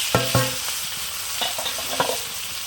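Raw tomato stirred into hot oil with panch phoron, black cumin and fried onion, a loud steady sizzle broken by several sharp spatula scrapes and knocks against the pan, with no voices.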